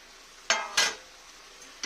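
Fried potatoes are stirred into a pan of mutton and spices, giving two quick scraping strokes over a soft, continuous sizzle.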